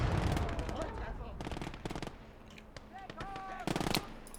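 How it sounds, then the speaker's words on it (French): Machine gun fire in the WWII strategy game Gate of Hell, with rapid bursts of loud automatic shots repeating in rhythmic volleys amid battle noise, plus a few higher whistling tones. "il a placé la MG dans le bâtiment"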